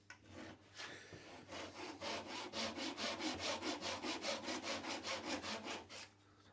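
Japanese razor saw cutting wood in a workshop, a close, steady run of about twenty rhythmic rasping strokes that speed up slightly before stopping, with no talking.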